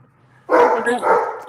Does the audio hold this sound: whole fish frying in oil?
no